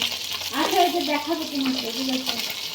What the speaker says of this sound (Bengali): এই যে বাটা মাছ ভাজতেছি, দেখেন